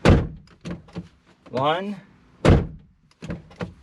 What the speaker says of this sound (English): Open and close the driver's side door twice and then leave open.